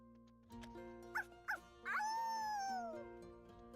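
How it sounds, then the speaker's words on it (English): A dog barks and howls in the video game Shadowverse, giving two quick yips and then a drawn-out, falling howl, clear and fairly quiet over a soft game music bed. "Barking and howling's fine"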